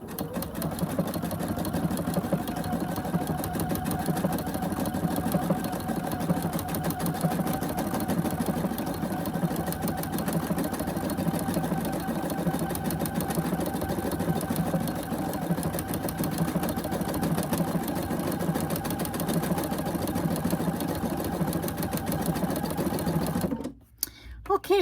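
A sewing machine with a walking foot quilts a baby quilt, running as a steady, continuous mechanical hum and rapid needle chatter for nearly the whole stretch, close and even, stopping briefly near the end.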